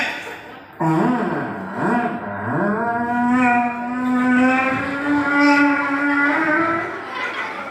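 Children's voices mimicking revving motorbikes, rising and sustained buzzing engine tones, close and loud, continuing for several seconds.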